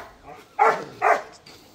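Two loud barks from a Rottweiler-like dog, close by, spaced about half a second apart, with faint background noise between them.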